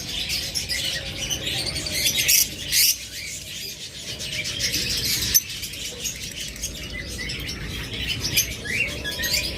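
Caged pet birds, including lovebirds, budgerigars, cockatiels and finches, chirp and tweet continuously in a busy, layered chorus, fairly loud and close, with no talk.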